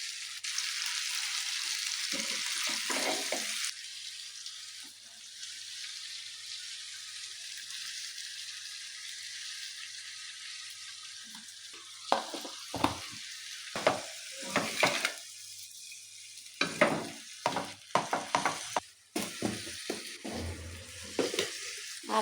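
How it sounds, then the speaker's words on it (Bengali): Panch phoron and dried chillies hitting hot oil, with a hissing sizzle strongest at the start, then quieter frying broken by sharp clatters of stirring and scraping in the pan. No one speaks. "এই যে এখানে পাঁচফোড়নের ফাঁকি করে নিচ্ছি আর শুকনো মরিচের ফাঁকি।"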